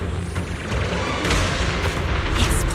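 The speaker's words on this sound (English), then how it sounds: "Explosions are becoming more frequent." Deep booming explosions in the video game Zenless Zone Zero, a dense, sustained rumble with repeated heavy blasts rolling on top of one another, loud and close with no talking.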